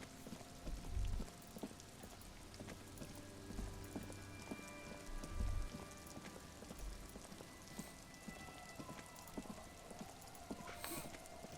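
Rain falling in the Disco Elysium video game, a soft steady patter of drops on surfaces, faint and continuous with a few low thuds and distant tones in the background.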